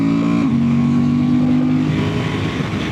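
Honda Transalp motorcycle accelerating hard up to 70, its engine note loud and close with a steady rising drone and a brief shift dip early on, with no talk.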